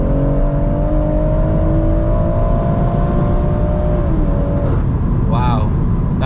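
A 480 bhp stage 2 BMW M140i engine revs steadily and loudly during a rolling launch with anti-lag, its pitch holding then dropping, with a brief higher whine near the end over constant engine roar.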